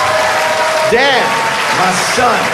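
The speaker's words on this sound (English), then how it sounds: "Give him a big round of applause." Someone speaks over a steady wash of audience applause at a stand-up comedy special that continues beneath his voice.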